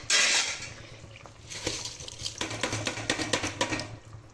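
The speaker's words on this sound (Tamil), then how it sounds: "இப்போ அரிசியை போட்டுக்கலாம்." Rice grains spill into a pot of boiling water with a brief rush, followed by light rattling and patter against metal, close by.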